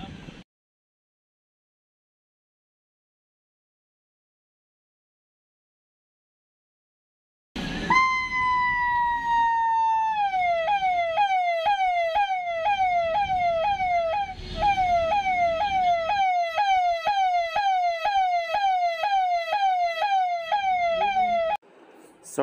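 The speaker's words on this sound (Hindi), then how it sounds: "ये पहला सायरन है, ये एम्पलीफायर वाला टाइप का है, बड़ा सा" An amplifier-type car siren, a large unit tested in a shop, fires up after a few seconds of silence with a rising tone, then settles into a fast, loud, close wail that cycles steadily for about twelve seconds before cutting off.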